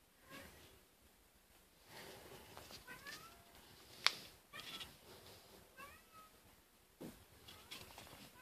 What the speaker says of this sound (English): my cat's up my window wanting in